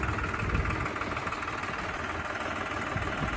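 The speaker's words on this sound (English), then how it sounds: "The little tractor is doing really good" A small tractor working a hay field in East Tennessee runs steadily, its engine giving a continuous, even rumble with a slight knocking texture, close and loud, with no talking.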